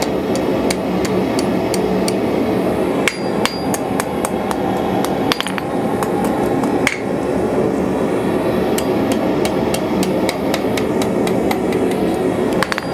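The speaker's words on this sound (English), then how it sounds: "I'm gonna go ahead and forge this hook" A blacksmith hammering a hot steel hook on an anvil, sharp ringing strikes repeating at a steady brisk rhythm over a constant roaring forge background, close and loud.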